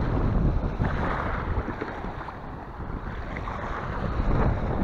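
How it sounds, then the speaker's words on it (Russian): Steady wind buffets the microphone on an open seashore, a continuous loud rushing roar with gusty swells and no voices. "Вчера был полный штиль, а сегодня чуть-чуть ветер."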